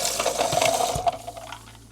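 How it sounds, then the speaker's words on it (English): Roughly 250 to 300 ml of water is poured over ice cubes in a shaker, making a steady splashing trickle with light clinks. It tapers off near the end, close up and with no voices. "We're then going to put in not too much water, probably like 250 to 300 ml."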